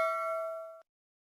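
A single bright clink from a drinking glass, ringing as a clear pure tone that decays for under a second before being cut off into silence.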